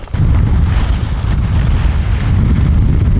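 Strong wind battering the microphone at an outdoor World Cup event, a loud continuous low roar with gusty rumble and no speech.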